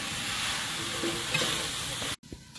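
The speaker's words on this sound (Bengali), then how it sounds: "মাংসটা ঢাকা দিয়ে দিয়ে কষিয়ে নিচ্ছি" Meat sautéing with spices in a pan, a soft steady sizzle with faint stirring, cut off by a sudden brief drop near the end.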